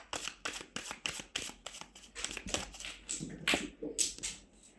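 Tarot cards being shuffled by hand, a quick run of crisp riffling flutters and soft slaps, close and clear, with no talking.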